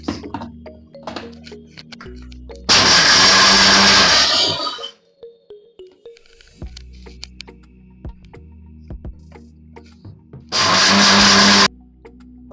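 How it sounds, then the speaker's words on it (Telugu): A kitchen mixer grinder turning fried peanuts into powder roars loudly in two separate bursts, a longer one and a shorter one, with handling clatter and quieter pauses in between. "మిక్సీకి వేసి పొడి పెట్టుకుందాం ఫ్రెండ్స్"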